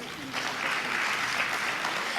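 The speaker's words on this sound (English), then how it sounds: "Let's give him a huge round of applause." Brief audience applause after a speaker is introduced at a stock market psychology talk, a steady mid-level patter of clapping with a faint voice at the start.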